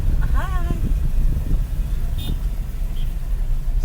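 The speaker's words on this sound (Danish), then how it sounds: "Så vi vil gerne parkere bilen her." A car rumbles at low speed while being driven and parked, its engine noise steady throughout, with people talking over it and a brief horn-like tone early on.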